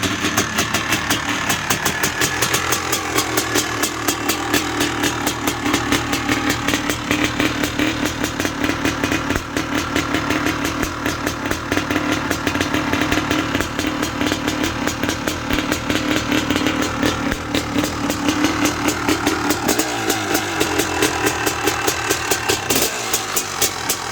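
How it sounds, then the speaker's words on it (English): Two-stroke Yamaha YZ motocross bike engine running, a continuous raspy, rapidly pulsing drone that stays close and loud for over twenty seconds with no talking. "you guys are going to want to hear some two-stroke"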